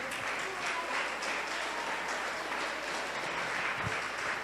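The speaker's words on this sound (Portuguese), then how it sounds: "Aplauda Jesus por isso." A church congregation applauds, a steady, even wash of many clapping hands that stays fairly faint and distant for several seconds.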